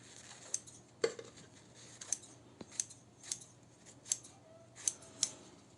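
Freshly sharpened scissors cut material in a series of crisp, close snips, about eight sharp clicks spaced roughly half a second apart against a quiet room.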